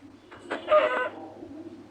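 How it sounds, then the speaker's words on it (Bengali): In the Minecraft video game, a chicken gives a short clucking burst, a single brief cluck against quiet background hum. "তো গাইস, আমরা এখন মুরগি মারবো।"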